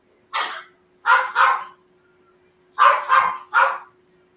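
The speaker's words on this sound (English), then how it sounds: "so we get to listen to the little doggy barking along." A small dog yaps in two quick clusters of sharp, close barks, three at a time with a short pause between, alone without talk.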